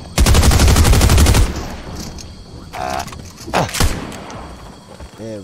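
SMG fire in Fortnite Zero Build: a loud, rapid, sustained burst up close for over a second, then sparser shots and game effects.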